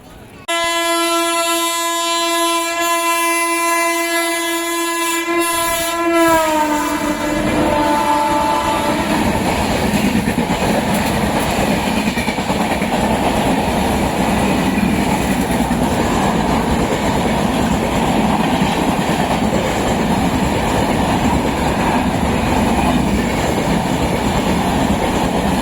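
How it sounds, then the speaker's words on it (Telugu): A train overtakes the Seshadri Express (train 17209) at Kavali station: a long horn blast with a falling pitch opens, then the loud, continuous roar and rattle of a passing train fills the rest, close by. "కావలిలో మన శేషాద్రి ఎక్స్ప్రెస్ని ఏదో ట్రైన్ ఓవర్టేక్ చేయబోతుందండి"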